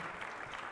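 Brief burst of applause from a church service congregation, a steady, even patter of many hands clapping for under a second.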